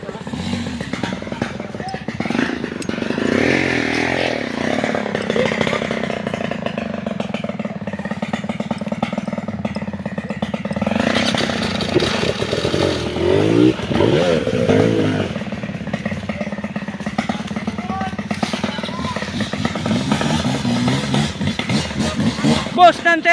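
A motorcycle engine revs and roars repeatedly at close range, with rising and falling bursts of throttle and mechanical clatter, while people talk over the engine noise throughout.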